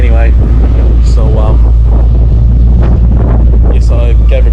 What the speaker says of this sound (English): it is fucking windy here, man